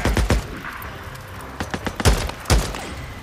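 Gunfire in the video game Days Gone: several loud, sharp shots with booming low ends, a quick cluster at the start and more spaced bursts later, close and punchy.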